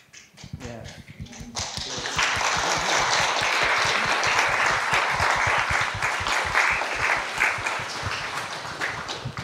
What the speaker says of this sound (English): One more round of applause, please, for the incredible musicians.